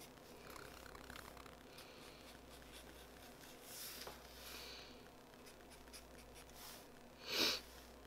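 A pencil sketches details of a mesh shoe on paper, with soft, faint scratching strokes and light hatching that run quietly throughout. A brief louder rustle comes near the end.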